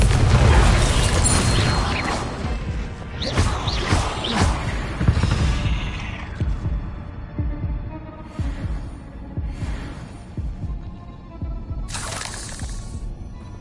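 Confringo spell blasts in Hogwarts Legacy, a fiery explosive spell that sets off a series of heavy booming impacts and crashing bursts, loud and close, with shattering debris and lingering rumble between hits.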